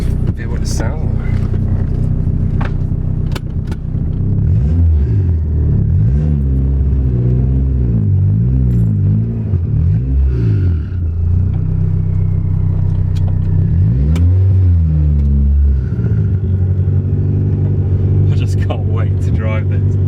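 A turbocharged Honda Civic EF's B18C4 engine rumbles steadily and loud at its first turbo start, with repeated revs rising and falling in pitch, heard from close up inside or beside the car.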